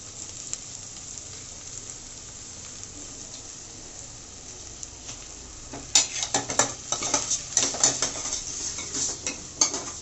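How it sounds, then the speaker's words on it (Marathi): Ginger garlic paste fries with tomatoes in a pan, a soft sizzle at first that turns into bursts of spatula scraping and clanking against the pan in the second half. "आता टोमॅटो मस्त की फ्राय झाल्यावर आपण टाकूया त्याच्यामध्ये आलं लसूणची पेस्ट."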